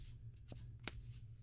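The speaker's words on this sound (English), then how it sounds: "go ahead and shuffle up here" A deck of cards is shuffled during Tri-Brigade test hands, with two quick crisp bursts of riffling over a low background hum.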